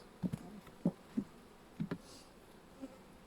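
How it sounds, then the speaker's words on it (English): Bees buzz around the single entrance at the bottom of a hive, a few short, quiet buzzes passing close by one after another against a calm background. "They have one entrance at the bottom, and it's full of bees"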